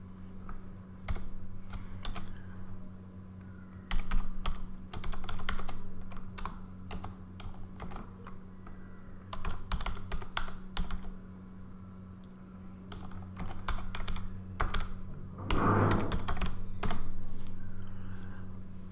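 Continuous close typing on a computer keyboard, with rapid irregular key clicks in bursts and short pauses over a steady low electrical hum.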